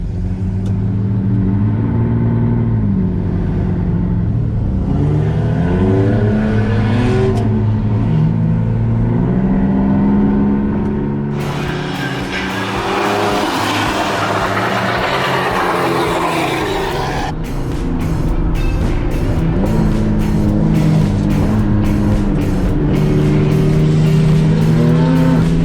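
The Danger Ranger 9000 race truck's engine roars close and loud throughout a race, its pitch sweeping up and down through gear changes and repeated revving, with harsh bursts of noise midway.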